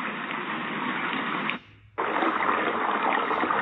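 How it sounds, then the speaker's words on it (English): Steady hissing rain noise from a small speaker, constant and even, dropping out for a moment before resuming at the same level. "Rain,"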